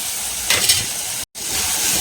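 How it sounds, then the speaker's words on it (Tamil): Tomatoes frying in sesame oil in a clay pot, village style, giving a steady close sizzle and hiss with a brief louder crackle and a short dropout near the end. "இப்போ தக்காளி நல்லா வதங்கிட்டோங்க"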